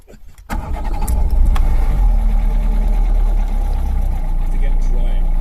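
A 125,000-mile Ford Fiesta MK4 with a 1.3 Endura engine cranks and fires after a brief quiet start, then settles into a loud, steady, rattly idle close by.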